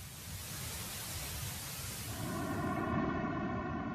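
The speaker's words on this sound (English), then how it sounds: "As hissy as the early cosmic sound is, it differs from pure white noise" Hissing broadband static from an audio rendering of the cosmic background radiation, steady and moderately loud, with faint tonal bands emerging partway through.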